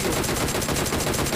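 Dense, continuous automatic gunfire from the mobile battle-royale game PUBG Mobile, loud and steady with rapid repeated shots throughout and no talk over it.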